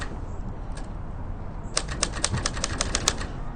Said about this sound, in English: As you can see, it's turning, so that way you can change the ribbon on this nice and easy old Royal typewriter.